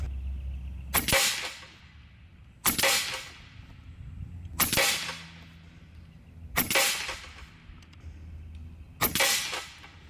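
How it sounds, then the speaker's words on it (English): An Umarex Gauntlet 2 SL30 side-lever big-bore PCP air rifle fires AEA pellets: five sharp, loud cracks about two seconds apart, each with a brief decaying tail over quiet background. "10 shots off a full tank."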